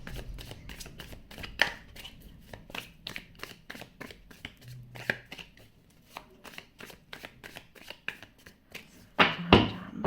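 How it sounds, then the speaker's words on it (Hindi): Tarot cards are shuffled by hand in a long run of quick, crisp riffles and taps with short pauses, close and clear, ending in a louder slap of the deck. "तो अब मैं कार्ड्स कर लेती हूँ शफल"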